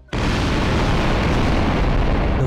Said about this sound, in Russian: Все, я лечу, сейчас будет бабах.